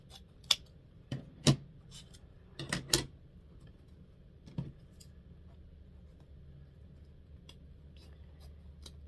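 Scissors snip ribbon for a Valentine's Day bubble wreath craft, giving a few crisp, close cuts in small clusters with quiet pauses between them.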